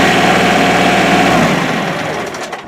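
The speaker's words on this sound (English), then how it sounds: "Sit in the operator seat, and we start the engine." Kubota L3301 HST tractor engine idling close by with a steady low rumble, then winding down near the end. No talking.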